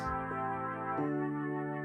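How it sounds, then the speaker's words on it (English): Soft, breathy sustained Mellotron flute tones layered with mellow electric piano chords, a chord change near the midpoint, played quietly without any voices. "This is one of my favourite presets in Logic, the Mellotron flutes."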